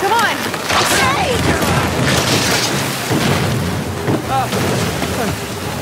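A roaring waterfall in the Uncharted 4 video game, with a loud, continuous rushing wash and deep rumbling booms, while voices shout over it throughout.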